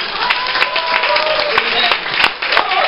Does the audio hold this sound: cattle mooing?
no